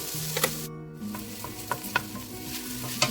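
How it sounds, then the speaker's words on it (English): One large onion sautéing in a pan with a steady sizzle while a utensil stirs and scrapes it, giving a few distinct clicks and knocks over the frying. "we're going to saute that for a little bit, probably about a minute"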